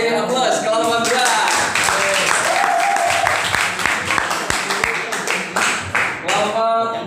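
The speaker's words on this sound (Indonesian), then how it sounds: "kasih aplaus kelompok 2" A classroom of students at an Islamic senior high school claps for group 2, a dense, steady patter of many hands that fills the room with bursts of chatter and voices mixed in.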